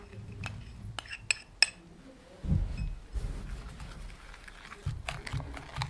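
A spoon stirs powdered alum into a turmeric mixture in a bowl, giving light metallic clinks and taps followed by softer scraping and mixing sounds close by, with no speech.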